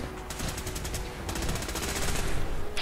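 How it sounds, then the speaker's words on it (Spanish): Rapid machine gun fire in Fallout 4, a dense rattling stream of close, loud shots with a short break partway, layered over the game's background din. "la ametralladora esa es de puta madre"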